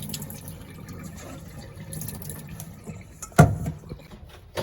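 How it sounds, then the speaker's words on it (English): Soaking water being poured off sea moss into a sink, a faint trickling and dribbling of liquid with one louder splash near the end. "So now we're gonna throw away the water that it was soaking in, okay?"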